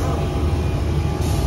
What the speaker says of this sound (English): This is a central line train to West Whiteley.